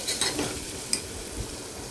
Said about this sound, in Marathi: आता हे सगळं मिक्स करून घ्यायचं आहे व्यवस्थित परतून घ्यायचं आपल्याला तेलामध्ये